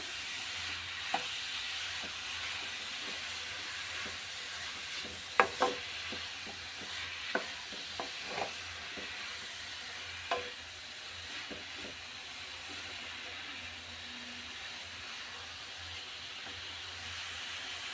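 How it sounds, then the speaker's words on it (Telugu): Grated carrots frying in hot oil for gajar ka halwa, a steady soft sizzle and hiss with occasional scrapes and taps of a spoon stirring in the pan, close and alone. "ఆయిల్ కొంచెం వేడెక్కాక మనం ముందుగా తురుము పెట్టుకున్న గాజర్ని దీంట్లో వేసి బాగా కలపాలి"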